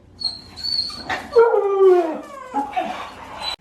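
Excited dogs whimper, whine and yip loudly up close before a walk, with drawn-out howl-like whines rising and falling between sharp yips.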